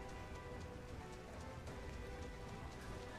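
Steady rain falls in the video game Breath of the Wild while the player climbs a mountain, a constant, even patter with no breaks and no voices, heard at a low level.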